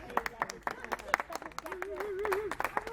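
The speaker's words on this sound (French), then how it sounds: "On applaudit Christine s'il vous plaît." Scattered audience clapping in a convivial group setting, sharp uneven claps mixed with voices and laughter, fairly close and moderate in level.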